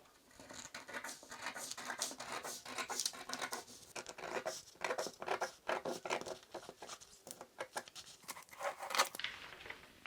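Scissors snip and crunch through fabric in short, irregular bursts as the bottom of a corset top is cut out, close and fairly quiet, with papery rustling between cuts.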